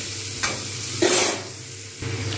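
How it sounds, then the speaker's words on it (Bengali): Potatoes fry in a pan with salt and turmeric, a steady sizzle broken by a few scraping stirs of a spoon, close and moderately loud, with no voices. "যেহেতু সুন্দরভাবে ভাজা হয়ে গেছে লবণ হলুদ দিয়ে আলুটা"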